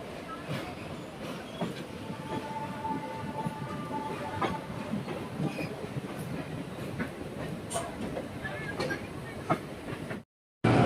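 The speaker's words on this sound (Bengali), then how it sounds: "ব্রিজ থেকে আমাদের ডিএমইউ ট্রেন দেখুন" A Siliguri–Haldibari DEMU passenger train crosses the Mahananda river bridge slowly, its steady rumble and rhythmic clatter of wheels filling the scene nearby with faint squeals, continuous until a brief cut near the end.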